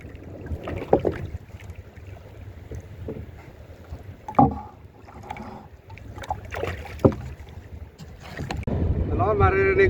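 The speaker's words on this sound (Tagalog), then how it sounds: "Ano, maririnig nyo hangin." Wind buffets the microphone with rough, gusty rumbles on open water aboard a small paddled boat, growing louder and steadier toward the end, with occasional knocks and faint voices.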